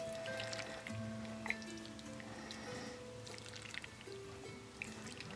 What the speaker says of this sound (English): Then we will add some broth.